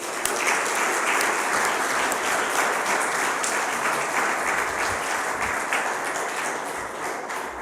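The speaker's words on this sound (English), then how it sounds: "And now you can clap." Sustained applause from a large congregation at a Sunday service, many hands clapping steadily for several seconds with no voices on top.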